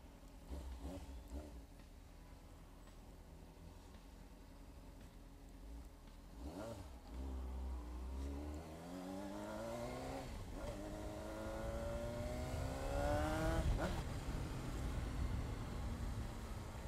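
A Honda CBR600RR sport motorcycle revs its engine, the pitch climbing in repeated rising sweeps that grow louder toward the end, heard from a short distance against outdoor background noise.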